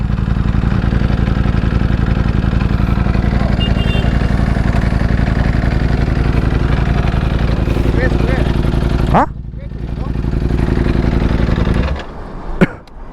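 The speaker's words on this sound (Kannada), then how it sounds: "ಫುಲ್ಲಲ್ಲೇ ಓಡಿಸು ಪರವಾಗಿಲ್ಲ ಫುಲ್ಲಲ್ಲಿ ಓಡಿಸು ನೋಡು ಸ್ಪೋರ್ಟ್ಸ್ ಮೋಡ್ಗೆ ರೆಡ್ಡಿಗೆ" A motorcycle runs at full power in sports mode on normal petrol, its steady engine drone loud and close before cutting away abruptly, with people talking over it.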